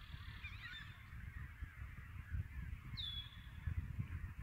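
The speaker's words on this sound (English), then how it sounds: "There's a goose nesting on top of the house." A goose nesting on top of a beaver house gives a couple of brief honks in the evening outdoors, a faint call near the start and a clearer one about midway, over steady low background noise.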